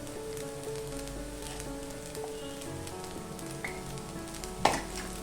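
Paneer fried rice tossed with salt in a hot pan gives a steady, soft sizzle and frying hiss, with faint stirring scrapes and one sharper knock of a utensil near the end.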